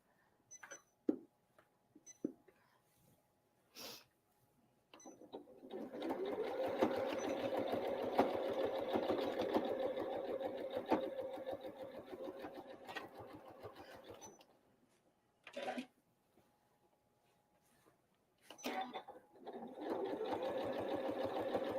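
Close, steady whir of a sewing machine stitching an apron, running in one long stretch and a later shorter burst, with quiet handling taps and pauses between.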